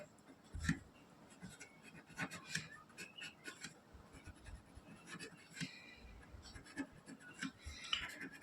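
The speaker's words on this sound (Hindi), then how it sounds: "तो लास्ट में हम एक ना लाइन यहाँ पे लिखेंगे" Marker or chalk writing a line on a classroom board during a Class 8 maths lesson, quiet scratchy strokes in short irregular bursts with brief pauses, close and faint, no talking.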